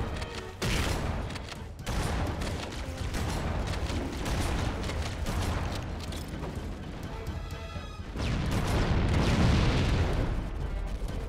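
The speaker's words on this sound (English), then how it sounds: "did you see that explosion?" Loud explosion in the Halo video game, a sustained roaring blast with heavy rumble lasting throughout, swelling again near the end, with no talk over it.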